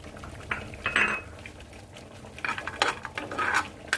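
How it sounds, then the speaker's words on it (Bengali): Cashew nuts fry in a tablespoon of ghee in a pan while a metal spoon stirs them, giving sharp irregular scrapes and clinks against the pan in several close bursts. "we will fry these cashew nuts and poppies and everything"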